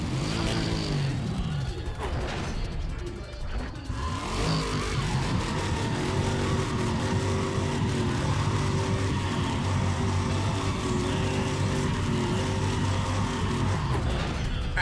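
A race car engine in Need for Speed ProStreet revs up and shifts gears, steady and loud throughout with rising and falling pitch sweeps, played under ongoing talk.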